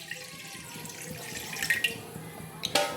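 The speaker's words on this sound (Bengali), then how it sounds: "এবার আমি এই কড়াতে দিয়ে দিয়েছি এই যে জলটা" Water pours into a kadai, a wok-style cooking pan, for a drumstick curry, a short soft splash with a couple of louder gurgles near the end, close and fairly quiet.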